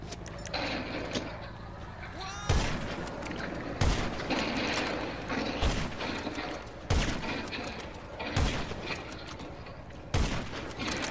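Online gunfight in Red Dead or GTA V, with loud gunshots fired at a steady interval of about one and a half seconds over a continuous game background.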